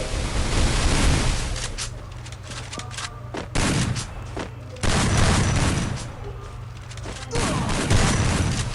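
Gunfire rattles in a shooting video game, with bursts of rapid shots and booms that swell and fade in waves, while a player talks over the action.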